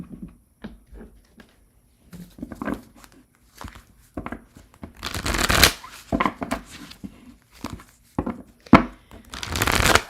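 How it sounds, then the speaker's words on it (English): Tarot cards are shuffled close up in irregular bursts of riffling and flicking, with louder rapid riffles between softer taps and pauses. "I'm going to continue to shuffle."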